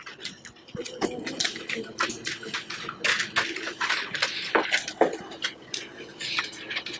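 A pen taps and scratches across a paper page in quick, irregular strokes, close and fairly loud and nearly continuous.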